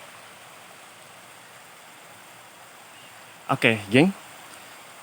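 Steady flowing water at the Curug Dayang waterfall, a constant soft rushing hiss filling the background, with a brief spoken voice near the end.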